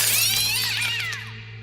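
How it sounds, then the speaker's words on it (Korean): A window's glass smashes, with a loud, bright crash followed by tinkling shards that ring out and fade over about a second. "창문이 깨지며"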